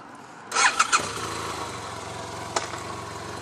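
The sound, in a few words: BMW F800GT two-cylinder motorcycle engine running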